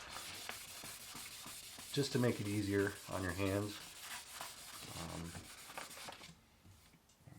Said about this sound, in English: You don't always have to use sandpaper. You can use sanding blocks.